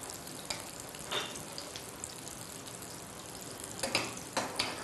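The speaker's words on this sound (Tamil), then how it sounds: "பார்த்தீங்கன்னா நம்ம ஷாலோ ஃப்ரை தான் பண்ணிட்டுருக்கோம்," Oats tikki shallow frying in oil, a low even sizzle up close with a few sharp spatula scrapes and taps scattered through, no talking.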